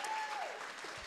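A small podcast audience gives a short, steady burst of applause in a Québec studio setting. It is fairly faint and even, with a thin tone gliding down at the start.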